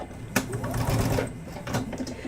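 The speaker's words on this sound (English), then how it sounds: "I'm going to bring this over to the sewing machine. I'm going to do my 1/4 inch seam" A sewing machine stitches a quarter-inch quilting seam, its needle whirring in a quick continuous run after a sharp start, close and clear, then slowing toward the end.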